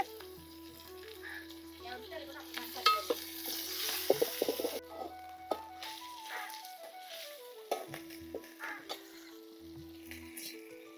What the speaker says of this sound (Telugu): తరిగి పెట్టుకున్న రెండు టమాటాలు ఇవి ఇవి కూడా వేసి వేపుకుంటానండి